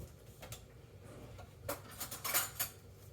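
Light metallic clinks and rattles of a spoon being pulled from a cutlery holder in a home kitchen, several small taps clustered together near the end, close and fairly quiet.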